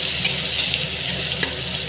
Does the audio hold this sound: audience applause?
no